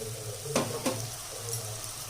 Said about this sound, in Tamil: இப்போ அந்த வேக வச்சு வச்சுருந்த கருணக்கிழங்கு சேர்த்துக்கிறேன்